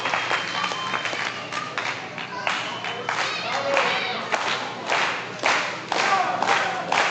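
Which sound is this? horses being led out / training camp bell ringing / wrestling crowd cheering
wrestling crowd cheering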